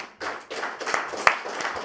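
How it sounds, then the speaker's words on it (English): Clapping breaks out at a conference closing ceremony, in uneven bursts of hand claps with a few sharp, close claps standing out. "I would like that everybody just clap and applause"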